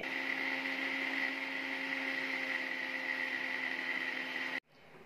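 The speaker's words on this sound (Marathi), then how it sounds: "मिक्सरला आपण ते बारीक करून घ्यायचे।" A mixer grinder blending mint leaves with cold water whirs at a steady high pitch for several seconds, then cuts off abruptly, leaving a faint quiet hum.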